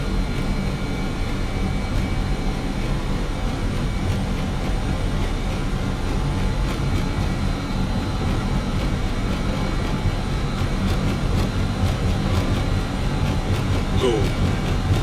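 Avro RJ jet engines roar steadily at takeoff thrust in a flight simulator, a continuous broadband rumble and whine with no let-up, over faint cockpit sounds.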